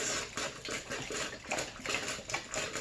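Water rushes out of the bleeding valve on a blue filter canister in a steady, fluctuating hiss with small splashy surges, no talking.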